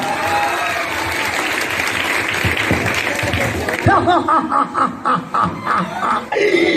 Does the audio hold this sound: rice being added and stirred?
no